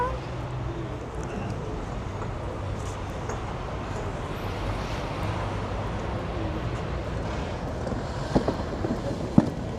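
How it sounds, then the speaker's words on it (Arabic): A cold wind blows outdoors, buffeting the microphone with a steady, rough rushing roar throughout, while a faint voice may sit low in the mix and a couple of small knocks come near the end. "دابا واحد الريح بارد"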